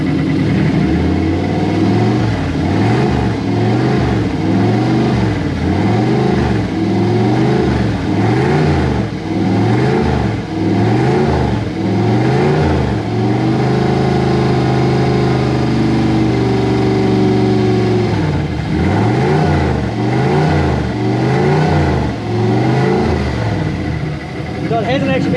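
A Toyota 1UZ V8 in a Hilux, swapped from a supercharger to a T88 turbo, revving hard in repeated rising surges over a steady, loud, close drone that runs nonstop for the whole stretch.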